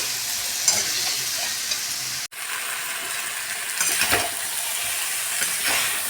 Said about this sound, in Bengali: মশলা আমার ভাজা হয়ে গেছে।